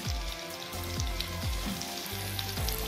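Fire crackles and sizzles steadily in a Minecraft PE adventure map, a dense close hiss with soft popping and low repeating thumps underneath, no voices.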